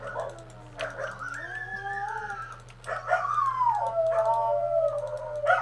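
Several dogs howl together in long, rising and falling wails, some yips and whimpers mixed in, close and fairly loud over a faint steady hum.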